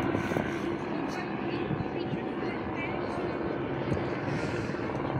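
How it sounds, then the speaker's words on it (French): A gendarmerie helicopter circles over a protest camp near Sainte-Soline, its steady rotor and engine drone filling the background continuously at a moderate distance, with a faint wash of outdoor noise beneath. "on voit un hélicoptère de la gendarmerie qui fait des tours autour du campement"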